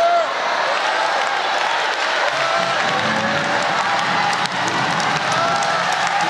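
Crowd clapping and faint cheering in a Florida venue, a continuous dense wash of applause heard throughout, with a voice talking over it.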